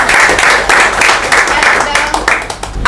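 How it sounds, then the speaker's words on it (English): An audience at a student farewell function breaks into loud, dense applause close by, with rhythmic swells of clapping lasting a few seconds. "Please clap for me."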